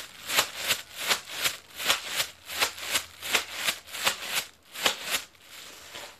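A plastic bag is rustled in a steady rhythmic pattern to mimic a train wagon during a children's music circle, about a dozen evenly spaced crinkly bursts close to the microphone with no talking.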